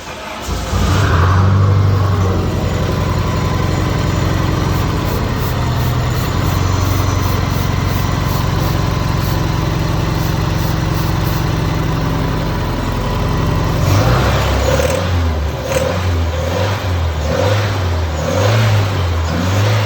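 A Dodge Rampage engine running on ether with a broken piston and heavy blow-by, loud and close, revving hard for a long stretch before it drops to a rough, pulsing idle.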